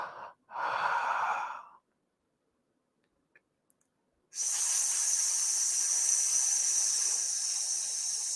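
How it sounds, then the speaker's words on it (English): A slow nasal inhale in a calm guided meditation, one short soft breath followed by a pause and then a long, steady, airy hiss of breath held close to the microphone. "So again, breathing in through the nose."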